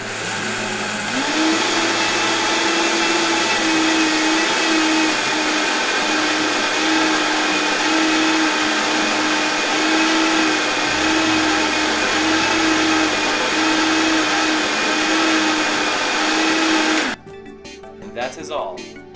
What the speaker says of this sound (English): Flip your Vitamix on, turn the dial to 10,